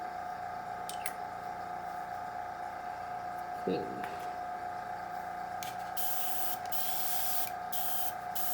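An airbrush blows plain air with no paint to clear dust, a few short bursts of hiss against a steady background hum.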